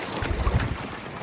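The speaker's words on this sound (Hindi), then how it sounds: "इतनी डरावनी लहरों की आवाज़ें आ रही हैं।" Waves on the Indus River churn in a low, rumbling wash, with wind buffeting the microphone in a short, continuous burst.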